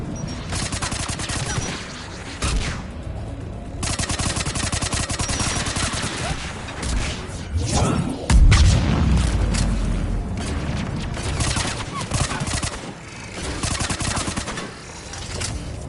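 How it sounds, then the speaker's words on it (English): Mounted turret in the video game Mass Effect 3 firing loud, dense bursts of gunfire across the whole stretch, with heavy booming impacts around the middle and sustained rattling volleys with brief gaps. "Mounted turret."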